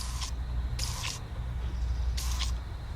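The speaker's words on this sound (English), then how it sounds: "we're going to spray it down with this bug spray right here." Bug spray hisses in three short bursts from an aerosol can onto a fishing worm used as bass bait, close and fairly loud over a low background rumble.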